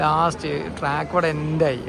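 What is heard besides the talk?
None of the usual background noises is heard.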